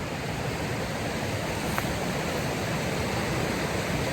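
A river flows past an outdoor spot near a town, a steady, broad rushing wash that stays constant throughout with no breaks or voices.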